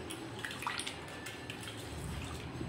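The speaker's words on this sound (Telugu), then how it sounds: "ఇంకా అక్కడైతే రైస్ కడగడం అయిపోయింది." Water splashes and trickles steadily as rice is washed, a soft continuous wash of liquid with small drips, fairly quiet and with no talking.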